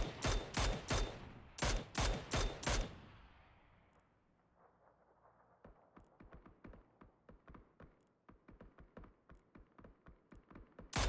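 Rapid gunfire in a PUBG match, a fast burst of sharp loud shots followed by a quieter stretch, then a long run of crisp distant-sounding shots in irregular bursts.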